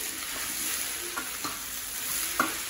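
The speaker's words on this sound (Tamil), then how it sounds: "தக்காளி நல்லா வதங்கட்டும்." Tomatoes and jackfruit sauté in a pan with a steady soft sizzle, and a few light stirring scrapes and clinks stand out near and alone.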